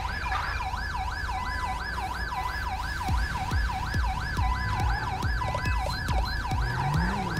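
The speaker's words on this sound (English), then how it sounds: "I just rolled the ambulance just in case, but we were good." An ambulance siren in Grand Theft Auto V with an LSPDFR police mod, a loud close wailing tone cycling steadily for several seconds over engine and road noise, with occasional knocks and clatter beneath.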